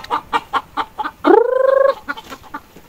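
Chickens cluck in quick, close bursts, broken by one longer drawn-out squawk midway before the clucking resumes.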